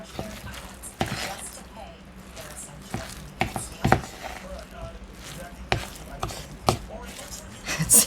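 Finely chopped apples being mixed by hand into fritter batter for a 1927 recipe, with a run of close, irregular wet thumps and squishy knocks over quiet background, and occasional talk.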